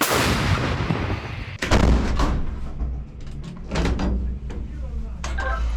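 A 155 mm artillery gun shot booms nearby, then another heavy blast follows with a rolling rumble and a few sharp bangs afterward.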